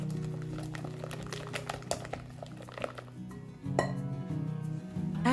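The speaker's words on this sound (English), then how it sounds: "Mix everything well." A utensil clinks and scrapes against a bowl while cake batter with sugar is mixed for an air-fryer apple cake, the light, close taps coming irregularly and fairly quiet.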